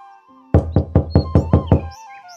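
Seven quick, evenly spaced knocks on a wooden door, sharp and close, followed by silence.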